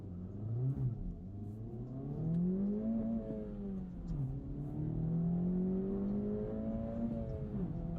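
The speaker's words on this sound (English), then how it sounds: "Engine sounds good. What is that? The engine noise." A video game car engine revs steadily, its pitch climbing and dipping through several gear-like sweeps, droning on without pause.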